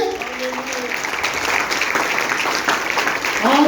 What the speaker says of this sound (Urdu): آپ تالی بجانا پسند کریں گے؟